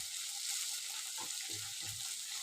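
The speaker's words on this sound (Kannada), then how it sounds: "ಬೆಂಡೆಕಾಯಿ ಎಣ್ಣೆಲೆ ಒಂದು 8-10 ನಿಮಿಷ ಬೆಂದಿದೆ" Okra (bhindi) frying in hot oil in a pan, a dense, continuous sizzle that stays loud throughout, with a few soft stirring scrapes near the end and no voices.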